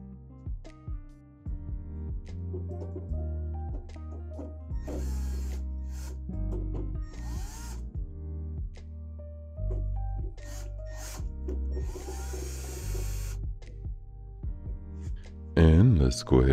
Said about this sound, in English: Let's start with these screws on the power supply.